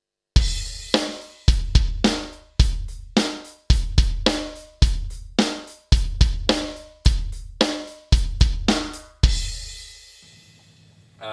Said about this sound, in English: Regular straight eighth note groove, kind of rock kind of pattern.